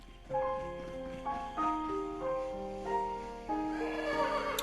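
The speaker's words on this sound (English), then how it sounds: "Capture your own horse." Horse whinnies in The Legend of Zelda: Breath of the Wild, a few successive tonal neighing calls rising and falling over about five seconds, fairly close and clear with no talking over them.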